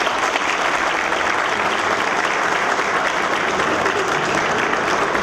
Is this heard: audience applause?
yes